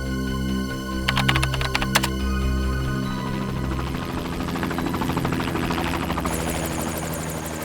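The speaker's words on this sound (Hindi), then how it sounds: "सर कहीं ये हेलीकॉप्टर की आवाज तो नहीं है?" Helicopter heard in the background ambience of a recording, a steady low rotor drone with a faint rhythmic chop. Sharp clicking taps come early, and the sound turns more hissing and textured later.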